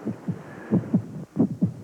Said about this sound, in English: That sound you hear is a heartbeat